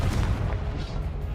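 A Confringo fire spell blasting in Hogwarts Legacy, a heavy booming burst with low rumble that rolls on for over a second, loud and dense, with no voice over it.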